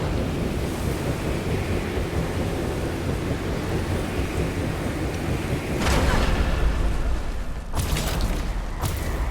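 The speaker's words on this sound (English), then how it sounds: "Your feeble body cannot overpower such tremendous gusts!" Strong wind gusts in the video game Guardians of the Galaxy, a dense continuous roar that swells louder near the end with sharp crackling bursts, loud and without speech.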